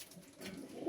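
Two Madrasi pigeons give faint, low, rolling coos nearby, quiet and brief, with a soft rustle underneath.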